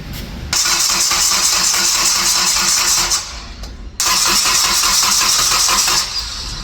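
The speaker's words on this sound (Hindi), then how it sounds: "अभी चेक करने आए हैं कि गाड़ी एक सेल्फ में स्टार्ट होती है या नहीं। ये डीजल है," A cold diesel car engine cranks with a rapid rhythmic churn, stops, then cranks again on a second attempt, loud and close, with no voices.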